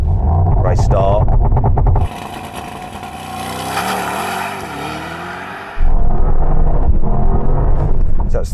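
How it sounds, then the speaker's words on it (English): A Mercedes-AMG GT launches from a left-foot-brake race start, engine held at high revs then surging hard under acceleration, loud and close, with a driver's voice heard before and after the run. "Left foot brake, race start."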